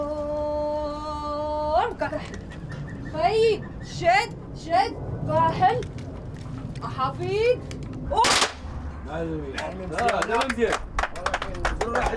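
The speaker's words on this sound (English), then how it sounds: "the entire performance ultimately depends on the synchronized firing of the rifles" Rifles fire in unison during training for a Moroccan women's horseback riding performance, giving one sharp, loud combined crack amid ongoing voices, shouts and movement.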